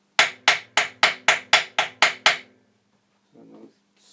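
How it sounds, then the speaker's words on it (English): A lead hammer whacks a saddle down onto its pegs with eight sharp, evenly spaced knocks in quick succession, then a short pause and a faint scrape. "I can now also just whack it a little bit with a lead hammer."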